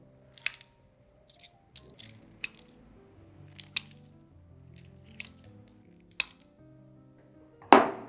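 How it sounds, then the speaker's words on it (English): Sharp metallic snips repeat at irregular intervals, several clean clicks of wire scissors closing on wire cut into short pieces, with a louder rustle at the end. "I'm cutting them in like 5 centimeter pieces so I can tie them up later on"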